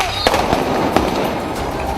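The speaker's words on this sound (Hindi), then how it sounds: "प्रदर्शन करने वालों ने सेना पर फायरिंग तक कर डाली" Gunfire crackles during protest clashes outside a Beirut embassy, with several sharp loud reports over a dense, noisy crowd din.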